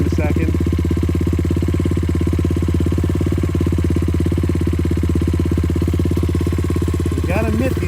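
A 90cc pit bike engine running in the snow with a steady, buzzing mid-pitched drone that holds constant throughout, fairly close, with a brief rev near the end.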